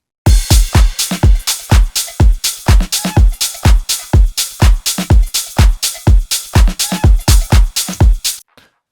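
A full drum track with tambourine, shaker, reverse cymbal and crash drives a steady pattern of punchy, evenly spaced hits for about eight seconds, loud and close, then cuts off abruptly.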